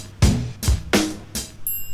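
Four scraped, guiro-like percussion hits land in an even rhythm within a beat, each a short rasping burst with a low thump beneath, followed by a thin high ringing tone.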